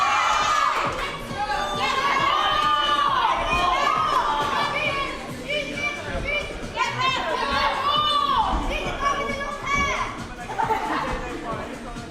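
A crowd at a competition at the UK National Championship qualifiers cheers and shouts in bursts, including children's voices, loud and close, mixed with continuous chatter.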